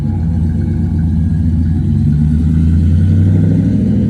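A 2018 RAM 1500 truck with a Flowmaster Super 40 muffler rumbles steadily through its exhaust, a deep low engine note that swells slightly as if lightly revved, with no voices.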